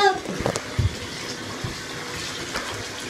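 Hot water gushing steadily from a tap into a small bathtub, a continuous close splashing wash with a few knocks and bumps, while a voice speaks over it briefly.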